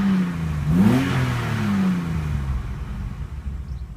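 A 1983 BMW 635CSI engine runs near idle, a steady close rumble that briefly swells as if lightly revved, then settles back to an even hum.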